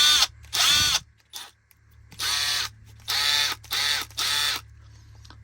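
Milwaukee M12 impact driver with a worn bearing, running in several short bursts of whirring motor noise separated by brief pauses, close and fairly loud.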